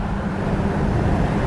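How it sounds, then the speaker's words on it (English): Steady broadband road and wind rumble from a truck driving with its windows open a little, continuous and fairly loud throughout with no voices. "just trying out some audio with the truck driving, windows open a little bit"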